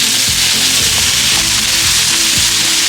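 Home fries hitting hot extra virgin olive oil on a 28-inch Blackstone griddle, giving a steady, close, loud sizzle and crackle that holds evenly throughout with no talking.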